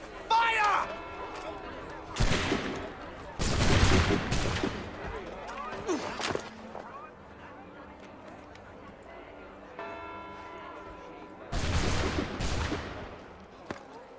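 Several loud musket volleys ring out in Assassin's Creed III Remastered, sharp broadband bursts a few seconds apart, with quieter stretches and voices in between.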